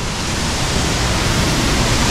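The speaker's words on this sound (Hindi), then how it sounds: "एंड यहाँ पर है वाटरफॉल, देखिए फाइनली लॉन्ग बुक वाटरफॉल" Langvoku waterfall in Karbi Anglong, Assam, roars as a steady, dense broadband rush of falling water, loud and close with no pauses.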